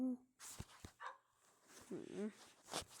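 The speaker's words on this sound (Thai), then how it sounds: "กดสกิลเห่าตลอดเวลา" A video-game dog barks in short yips and whimpers repeatedly from a skill triggered again and again, the bursts spaced irregularly through a busy game soundtrack.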